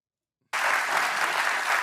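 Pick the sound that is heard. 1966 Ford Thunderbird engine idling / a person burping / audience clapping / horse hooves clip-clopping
audience clapping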